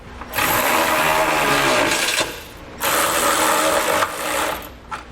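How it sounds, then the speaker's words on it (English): A ratchet with a 3/4 inch socket tightens the bolts of an EcoHitch Stealth trailer hitch receiver on a 2018 vehicle. It gives close, loud, steady bursts of rapid clicking in two long runs with short pauses between them. "We'll come back with a 3/4 inch socket, and we're going to tighten up all our hardware."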